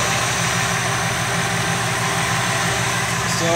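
A 383 stroker engine idles steadily, a close, even low rumble with a constant throb that lifts slightly near the end.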